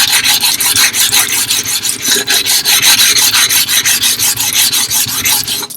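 A Japanese natural whetstone edge is chamfered by hand, giving a loud, close rasping rub in quick regular back-and-forth strokes with no talking.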